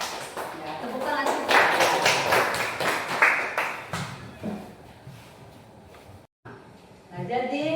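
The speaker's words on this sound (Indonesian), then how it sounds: "Ya, tepuk tangan." A classroom group claps after a prize goes to one of the student teams, with bursts of fairly close hand claps and taps that end in a short silence. Talk can be heard around the claps.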